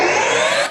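Logic 9 Flex Time speed-up effect on a song, a dense, bright wash of sped-up music that holds steady and loud for under a second, then fades at the end.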